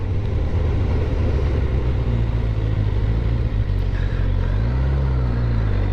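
A car driving down a residential street, with a steady, loud interior engine and road rumble that stays continuous throughout, the pitch shifting slightly as it moves along, with no talking.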